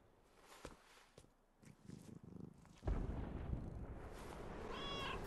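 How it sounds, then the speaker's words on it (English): A Lynx cat flip emote in the Fortnite video game gives a short synthetic meow near the end, after soft footstep-like taps and a burst of game noise. "It even meows"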